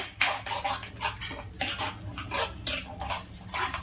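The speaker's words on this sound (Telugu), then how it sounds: "ఉల్లిపాయలు మంచిగా కలుపుకోవాలి" Chopped onions stirred by hand or spoon into a thick curd batter in a bowl, steady wet squelching and scraping with clinks against the dish, continuous and close.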